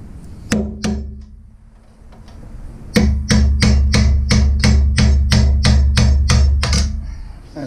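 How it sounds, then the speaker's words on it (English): A heavy hammer strikes metal while compressing Jeep TJ front upper control arm bushings, first a couple of isolated blows, then a steady series of about a dozen loud, ringing clanks close by. "I'm just going after the big hammer."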